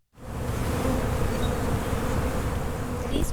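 Honeybees buzz around white beehive boxes in Centennial Park, Nashville, a dense steady hum of many wings close by, rising in at the start and continuing unbroken with no talk.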